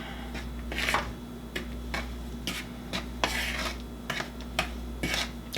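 Ingredients for strawberry shortcake are stirred in a bowl with a utensil, giving a quiet, steady rhythm of scraping and clinking strokes against the bowl, close and alone.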